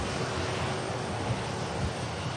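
An EasyJet Airbus A320 airliner at Manchester Airport gives a steady, broadband engine roar at moderate distance, unbroken and without talk over it.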